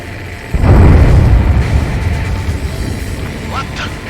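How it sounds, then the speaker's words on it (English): A huge underwater explosion in the Ace Combat 7 video game bursts in as a sudden loud, deep boom that rolls into a sustained rumbling roar before slowly easing off. "A huge explosion just went off underwater."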